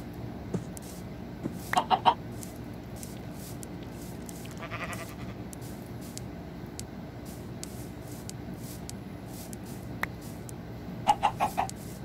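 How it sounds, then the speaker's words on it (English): Chickens clucking in the Minecraft video game, a few short clucking bursts spaced apart over quiet ambient background, with a brief bleat-like call midway. "That's how I lure my chickens!"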